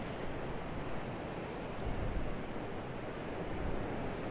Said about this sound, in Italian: Sono circa 4-5 metri di onde